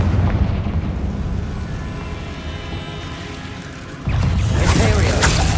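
Spell-casting combat in Hogwarts Legacy, with booming magical blasts from a Confringo fire spell rumbling loudly and continuously, swelling into a bigger burst near the end.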